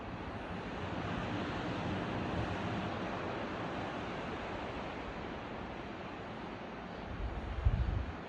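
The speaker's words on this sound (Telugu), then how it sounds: "అలా ఆ సముద్రపు హోరును వింటూ కళ్ళు మూసుకుని" Steady broadband roar of ocean surf at a Florida beach around sunrise, continuous and fairly loud, with a heavier low rumble of a breaking wave swelling near the end.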